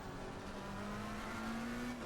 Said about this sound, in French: je trouve que les bruits moteurs sont plutôt bons